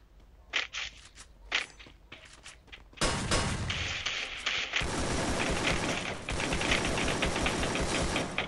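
An MP40 submachine gun fires in a video game, first in a few sharp separated shots, then in loud sustained rapid bursts with clanking and footstep-like clatter.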